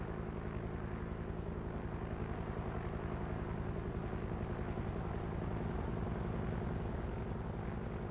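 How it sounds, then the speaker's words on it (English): Helicopters in the video game GTA Online: steady, rhythmic low rotor thrum with engine drone, continuous and even for the whole stretch, fairly close, with no talking. "Probably not a good idea having those helicopters in the middle of the street."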